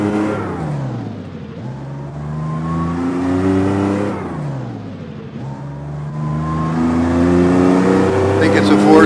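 A small Austin Healey sports car in a driving video game revs up through its gears in two long rising sweeps, the engine loud and close, with a short drop between them.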